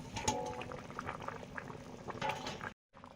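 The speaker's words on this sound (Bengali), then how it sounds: "ঝোল ফুটে গেছে" Fish curry broth bubbling in a pot, a soft steady simmer with small gurgling pops, close and fairly quiet, briefly cutting out near the end.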